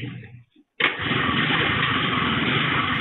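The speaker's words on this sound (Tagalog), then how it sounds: "pinaandar ng isa sa mga lalaki ang motorsiklo" A motorcycle engine starts abruptly after a brief silence, then settles into a loud, steady idle close by, captured on street CCTV in Guadalupe Nuevo, Makati City.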